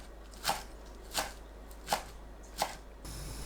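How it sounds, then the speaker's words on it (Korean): A knife cuts perilla leaves into 1 cm strips on a board, giving four crisp, evenly spaced chops with quiet gaps between them, close and alone. "반으로 길게 자르고 1cm 두께로 썰어주세요."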